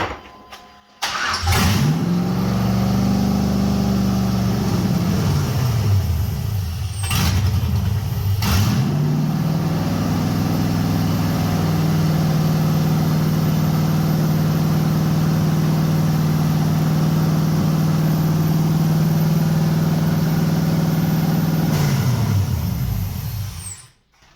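An LS-swapped 1989 Chevy S10 Blazer fitted with new headers cranks and fires up, dies briefly, then restarts and settles into a steady, loud idle for about fifteen seconds before shutting off.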